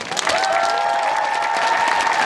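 Sustained applause from a large crowd at the closing of the Järvamaa song and dance festival, a dense steady wash of clapping with a held musical tone running under it.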